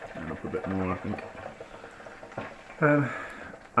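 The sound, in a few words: potato chips frying in beef dripping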